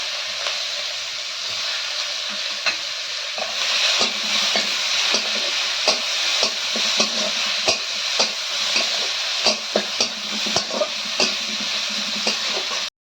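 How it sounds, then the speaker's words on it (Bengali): Chopped onion sizzles in hot oil with dried red chilli and whole cumin, a steady close frying hiss punctuated by regular sharp taps and scrapes of a spatula stirring in the pan. "এখন এর মধ্যে দিয়ে দিচ্ছি কুচানো পেঁয়াজ"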